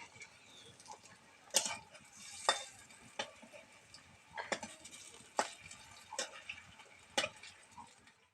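Soft sizzling of onion-stalk fritters frying in oil, broken by several sharp scraping and stirring clicks at irregular intervals, close by.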